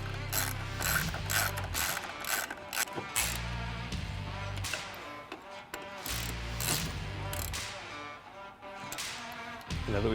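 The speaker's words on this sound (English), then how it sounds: "we'll come back with the 5mm Allen." A 5mm Allen ratchet tightening M8 bolts while installing a Trektop on a 2-door Bronco, with rapid clicking ratchet bursts up close, repeated in quick strokes with brief pauses between.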